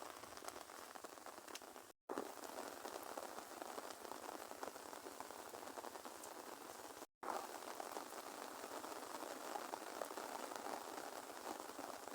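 Steady rain patters and hisses on a surface, a dense even wash of drops with two brief cuts to silence.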